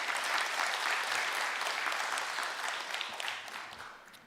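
Sustained audience applause at a career and technology center graduation ceremony, a dense steady roar of many hands clapping without voices, fading slightly toward the end.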